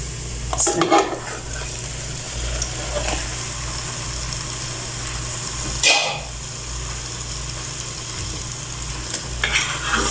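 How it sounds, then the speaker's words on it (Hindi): Chicken sizzles steadily in a hot pan with garlic-ginger paste while a utensil scrapes and stirs, with a few clanks of metal against the pan. "अब हम इसमें चिकन डाल देंगे।"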